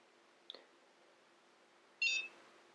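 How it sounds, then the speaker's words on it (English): A NuFace Mini microcurrent device gives a single short, faint electronic beep after a small click in an otherwise quiet room. "And then you hold until it beeps."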